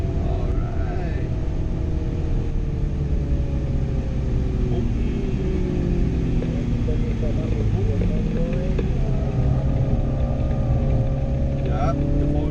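A 2017 MINI Countryman JCW with four-wheel drive under way, its engine droning loud and steady with shifting pitch as traction control trims power, road and cabin rumble filling the background throughout.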